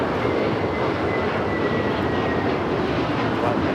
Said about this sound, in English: This is Spirit Airlines 2597 taking off to Baltimore on the A321neo.